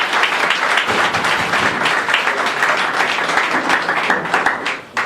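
Sustained audience applause at a political rally, dense and loud throughout, a crowd clapping steadily before fading slightly at the end.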